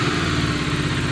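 A Bajaj Dominar 250 motorcycle idles in neutral just after a cold start. The engine makes a loud, steady, even rumble the whole way through, with no voices.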